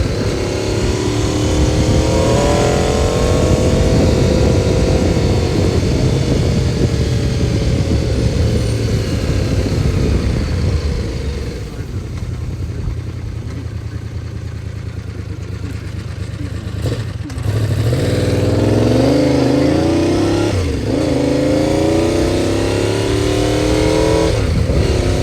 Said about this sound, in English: It's nice just to tool around at light throttle and not have the thing misfire